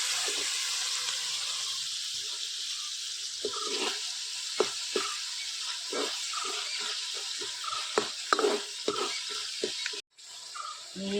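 Onion and tomato fry in a pan for a Malvani dried bombil curry, giving a steady broadband sizzle with scattered clicks and scrapes of stirring; the hiss cuts out briefly near the end, with no talk.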